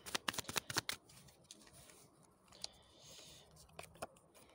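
Tarot cards are shuffled and drawn, giving a quick run of crisp riffling flicks up close, then scattered softer card snaps and slides in a quiet room.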